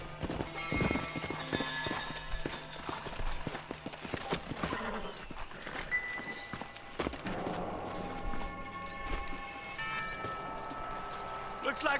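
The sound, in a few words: horses walking in Red Dead Redemption video game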